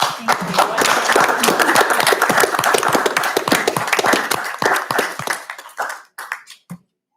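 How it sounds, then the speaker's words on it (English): Applause from an audience at a city council meeting in Oregon, steady and full for several seconds before thinning into scattered claps and fading out. "I just really want to give them a round of applause"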